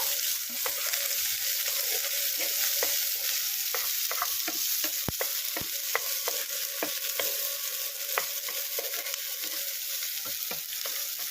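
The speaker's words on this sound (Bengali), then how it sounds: "এই পেঁয়াজ কুচিটাকেও দিয়ে একটু লাল লাল করে ভেজে নেব।" Chopped onions fry in a pan for a green banana curry, a steady bright sizzle running throughout while a utensil scrapes and taps the pan in irregular strokes as they are stirred.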